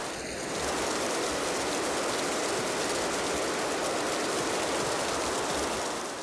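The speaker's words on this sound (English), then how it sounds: "I also added a few geyser sounds that I have created myself" A geyser from a natural disasters sound pack, a steady, loud hissing rush of spraying water and steam that holds evenly from start to finish with no pauses or voices.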